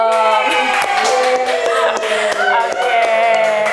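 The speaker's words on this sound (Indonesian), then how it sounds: "Tepuk tangan dulu dong." A studio audience at a hospital talk show claps along in time, sharp regular hand claps over a backing music track.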